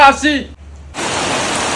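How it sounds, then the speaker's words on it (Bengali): Heavy rain that has just begun outdoors, a sudden loud, steady broadband wash of downpour cutting in after a brief spoken word. "বাইরে বৃষ্টি শুরু হয়ে গেছে, অনেক জোরে হচ্ছে"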